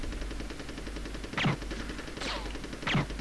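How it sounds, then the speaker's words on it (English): Gunfire in the Army Men Sarge's Heroes video game, three sharp distant shots spaced roughly evenly over a low steady background hum. "Why are you still shooting at me?"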